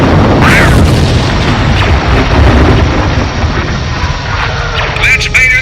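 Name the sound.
missile explosion hitting target in Star Wars audio drama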